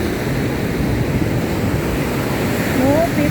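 Ocean surf on a rainy Goa beach roars as a loud, continuous wash mixed with wind buffeting the microphone, with no clear voices.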